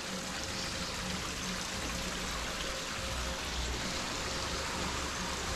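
A stream flows beneath a walkway, a steady, full rushing wash of water that holds an even level throughout, with no voices.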